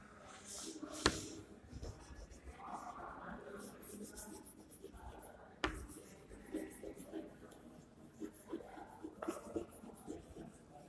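Chalk or marker scratches out a sentence on a classroom board in quiet, intermittent strokes, with a couple of sharp taps as the writing starts and stops, faint and close.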